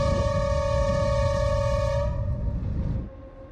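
A North Korean train nearing Sinuiju sounds a loud, steady horn for about two seconds, close by over the rolling rumble of the moving train, which carries on after the horn stops.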